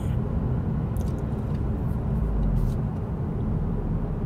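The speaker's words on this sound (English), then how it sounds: "let you guys listen to how it sounds like in the car" Steady low rumble of road and engine noise inside a moving 2015 Honda Civic Si coupe, a constant muffled drone with no talking.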